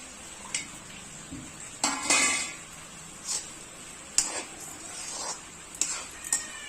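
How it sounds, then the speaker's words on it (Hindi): Pieces of desi chicken dropped into a pan of spices with garlic-ginger paste, several sharp clinks and scrapes of utensil against pan with brief sizzling bursts between quiet gaps. "अब डाल देंगे हमारा चिकन।"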